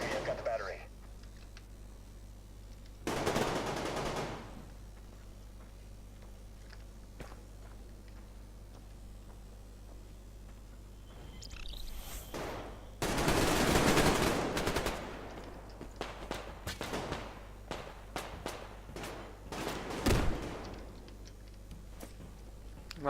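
Gunfire from a weapon in the free-to-play online shooter Survarium: bursts of shots around a few seconds in and a longer volley near the middle, then scattered single sharp reports, with game ambience and a steady low hum underneath.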